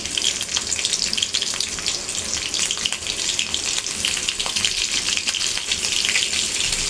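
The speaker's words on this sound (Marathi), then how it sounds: "तेल टाकलं आहे थोडं हिंग टाकते ओली मिरची टाकली" Green chilies and a pinch of asafoetida crackle loudly in hot oil, a dense, continuous spitting sizzle that fills the whole stretch without pause.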